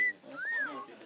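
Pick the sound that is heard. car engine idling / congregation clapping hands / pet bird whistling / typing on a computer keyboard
pet bird whistling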